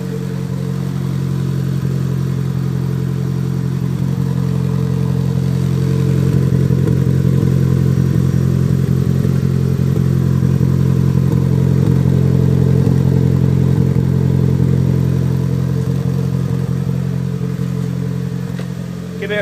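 A car engine idles steadily up close with a deep, even hum and light mechanical clatter, swelling slightly in the middle before settling, with no talk.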